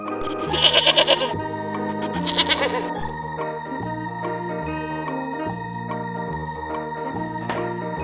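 Two bursts of goat bleating, quavering and nasal, close and fairly loud over light background music, followed by music alone.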